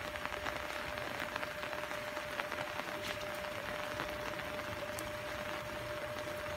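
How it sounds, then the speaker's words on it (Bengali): Heavy, continuous rain pours down over flooded paddy fields in Dinajpur, a faint and even hiss with no breaks throughout. "কন্টিনিউ চলছে বৃষ্টি।"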